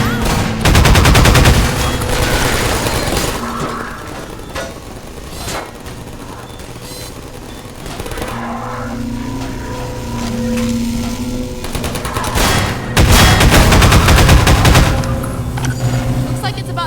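Turret gunfire in the video game Half-Life 2 comes as loud, rapid automatic bursts, a strong one at the start and another near the end, with a voice speaking in the quieter stretch between them.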